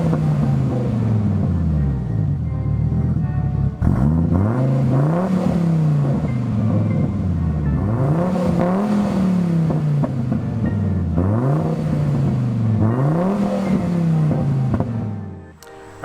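A turbocharged Audi C4 S4 engine revs repeatedly, pitch climbing and dropping in several loud cycles with a deep throaty rumble, then cuts off at the end.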